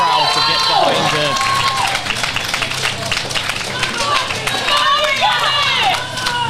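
Spectators at a British powerlifting championship applaud and cheer a lifter, with steady clapping, shouts and whistles filling the hall, while an announcer's voice runs underneath.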